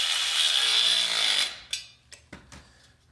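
A hand drill whirs steadily, then cuts out sharply as it reaches its torque limit. A few quieter knocks and clunks follow, recorded close up while drilling square tubing with a jig.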